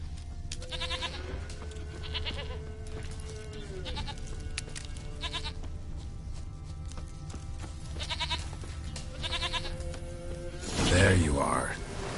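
A goat in a video game bleats several times in a row, each cry a short wavering call over steady background music, followed by a burst of louder rustling near the end.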